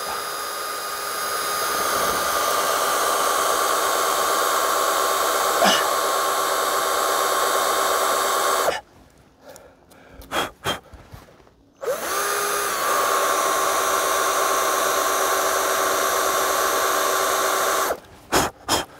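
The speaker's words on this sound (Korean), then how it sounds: "이렇게 해서 좀 드릴로 좀 건드렸고요" A power drill works into a tree trunk during pruning, whining loudly in long sustained runs broken by a short gap with a few quick bursts, then cutting off into brief spurts near the end.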